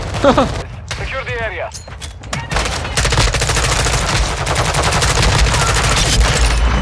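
Rapid gunfire in the multiplayer mode of Call of Duty: Modern Warfare II, a dense, loud burst of automatic shots. It rolls on steadily after brief talk at the start.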